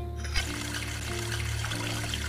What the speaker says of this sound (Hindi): तो भाई पानी आना स्टार्ट हो गया